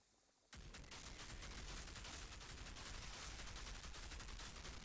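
A sudden burst of rapid gunfire erupts after a brief quiet moment in the shooter game Outriders, sustained dense automatic shots with metallic high clinks, loud and continuous.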